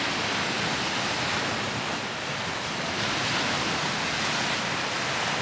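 Ocean waves on the shore, a continuous, dense hiss of surf washing in at steady volume with no voices.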